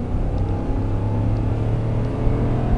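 A 2010 Ford F150 XLT crew cab 4x4 pickup pulls away under steady engine load, a continuous low drone with a slowly rising tone, close and fairly loud, with no talking.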